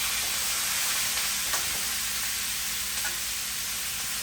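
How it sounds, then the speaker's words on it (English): Sauce and chicken stirred together in a hot frying pan produce a continuous loud sizzle and hiss, with a couple of faint scrapes. "now you just want to stir everything together"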